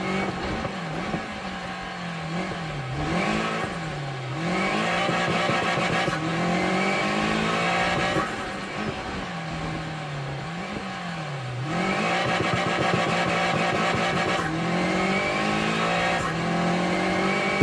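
A Lancia Delta four-wheel-drive rally car in Assetto Corsa Rally holds a loud, steady engine drone that rises and dips with repeated revs and gear shifts. Occasional tire noise comes through as it drives on continuously.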